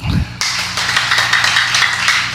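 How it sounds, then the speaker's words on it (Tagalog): Church congregation applauding during a Christian fellowship sermon, a dense burst of clapping starting abruptly after a brief low thump and continuing steadily and loud to the end. "Palakpak."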